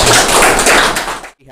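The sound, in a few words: audience applause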